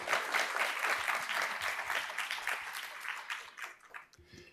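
Sustained applause from an audience at a sustainable development workshop, steady dense clapping that fills the room before thinning and fading out near the end.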